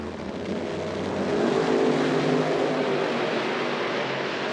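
Pro nitrous drag racing cars launching down the strip at Milan, a loud sustained engine roar that swells midway and holds steady, with no talk.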